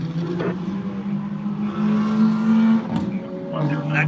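A loud car engine holds a steady, throaty drone with a small rise in pitch, continuous throughout and close by.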